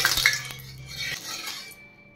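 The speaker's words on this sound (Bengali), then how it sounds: "নুনটা ভালো করে মিশিয়ে নিলাম" Salt being stirred into hot oil in a pan: a few metal scrapes and clinks of a spoon against the pan, close and short, with a faint sizzle fading out.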